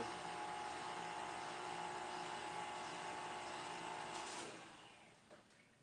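A kitchen stand mixer whirs steadily while mixing cake batter with plums, a constant motor hum that winds down and stops near the end.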